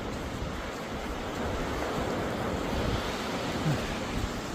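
Sea waves wash onto a beach at low tide, a soft continuous surf hiss mixed with light wind noise, fairly faint and without speech.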